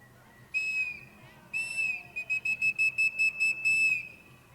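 A Native American whistle imitates an eagle call: two sustained shrill blasts, then a quick run of about eight short piercing chirps and a final longer cry, clear and fairly close with no talking.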